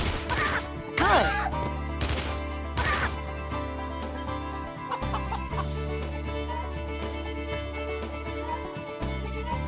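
Chickens cluck and squawk in the shooting video game Chicken Riot, mixed with whacks and crash effects, loud and busy over game music.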